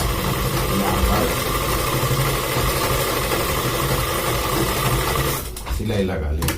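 A sewing machine runs steadily while stitching men's underwear, a loud, close, continuous whirring that barely dips before the very end.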